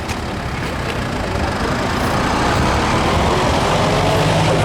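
A modified lawn tractor fitted with a 1200cc Suzuki engine runs with a loud, steady, rough mechanical roar at a drag event, holding close and unbroken without any talk.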